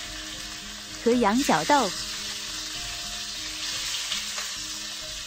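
Tomato and okra stir-fry in a hot wok for Assam fried fish, a continuous close sizzle and hiss with a short stretch of speech over it.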